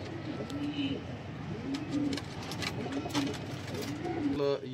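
Sialkoti pigeons cooing in repeated soft, low, rolling calls, with people talking faintly underneath.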